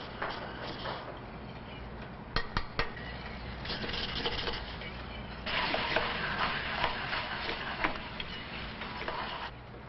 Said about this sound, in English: there are many methods for moving the egg around in the pan to make an omelet